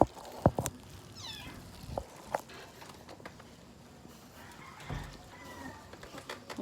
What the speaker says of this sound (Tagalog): Ang daming maliliit na pusa.